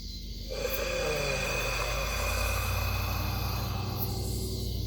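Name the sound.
forceful tai chi exhale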